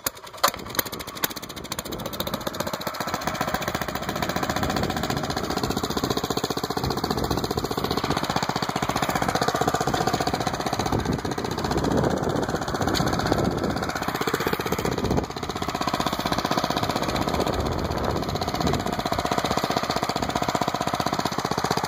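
Small engine on a Planet Jr BP1 walk-behind seeder, which needs choking to start, running at a steady rough chug close by for over twenty seconds, with a few sharp knocks at the start and no speech.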